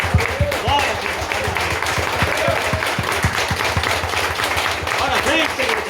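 A church congregation applauding, steady rhythmic clapping from many hands close by, mixed with voices calling out throughout.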